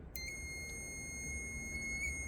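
A multimeter continuity test gives a high, steady electronic beep, sounding continuously and clearly, with a low background hum and no talking.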